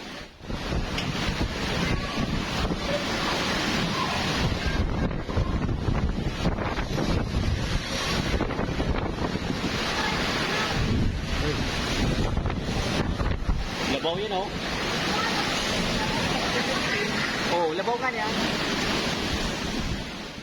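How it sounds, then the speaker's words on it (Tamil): Typhoon Fung-wong drives high sea waves and strong wind along the coast of the Philippines, with heavy gusts buffeting the microphone over continuous roaring surf, loud and unbroken throughout. "பிலிப்பைன்ஸில் ஃபங் வாங் புயல் கரையை கடந்தபோது கடலில் பல மீட்டர் உயரத்திற்கு அலைகள் எழும்பியது."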